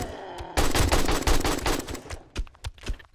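AK rifle fire in the zombie survival game 7 Days to Die: after a quiet moment, a loud, close burst of rapid automatic shots rattles for about two seconds, followed by several separate single cracks.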